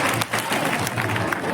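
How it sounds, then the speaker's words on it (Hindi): Audience applause welcomes the chief guest at a Republic Day school function, a brief, fairly quiet wash of crowd clapping. "एक बार जोरदार तालियों स्वागत करेंगे आज के कार्यक्रम के मुख्य अतिथि का।"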